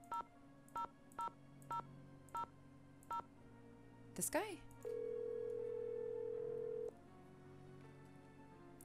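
Telephone keypad dialing in the Nancy Drew: Haunted Carousel video game, heard as a run of seven clear, evenly spaced tones followed by a steady ringing tone, with a brief voice between them.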